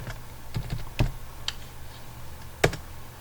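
A computer keyboard is tapped in a short, sparse burst as a folder name is typed, giving a few distinct, close clicks over a quiet background hum.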